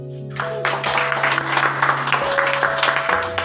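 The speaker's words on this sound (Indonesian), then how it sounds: "Tepuk tangan untuk perempuan." A church congregation applauds together, a dense burst of clapping that holds steady for a few seconds at moderate loudness under a faint sustained tone.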